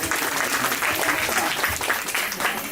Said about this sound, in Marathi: जरा जोरात टाळ्या झाल्या पाहिजे